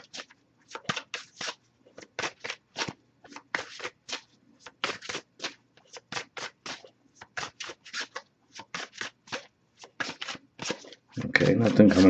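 Tarot cards being shuffled by hand during a reading, a long run of crisp rapid riffles in quick bursts with short pauses between, close and clear, ending in a louder rustling handling noise.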